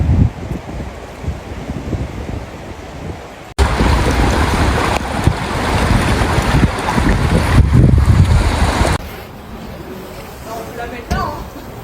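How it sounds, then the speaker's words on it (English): Storm wind and rushing floodwater during Storm Herminia in Rennes, Brittany, France, heard as a loud continuous roar with gusting wind buffeting the microphone and a cut partway through, while a voice speaks over part of it. "Storm Herminia sweeps across France bringing torrential rain and violent winds, numerous rivers are overflowing, causing widespread flooding"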